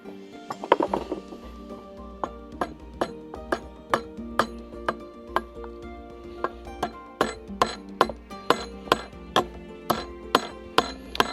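Forged steel pieces are struck in a vise while being broken off, a long series of sharp metallic blows landing at a fairly steady rhythm, close and ringing, with no talking.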